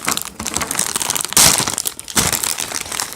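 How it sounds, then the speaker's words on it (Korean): A snack package is ripped open by hand, loud close crinkling and crunching of the plastic wrapper with a sharp tearing burst midway, then more rustling, with no talk. "그냥 손으로 뜯을게요."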